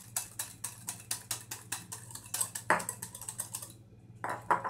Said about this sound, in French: on commence par faire comme une petite omelette et on blanchit avec le sucre